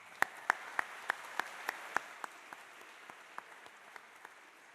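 Audience applause at a robotics conference session: a run of distinct, evenly spaced claps that starts fairly strong and fades steadily over a few seconds, sparse and moderately distant with no voices.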